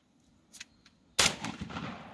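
After a short hush, a single loud shotgun blast goes off during a youth-day turkey hunt. Its heavy crack is followed by a lingering, rumbling echo outdoors.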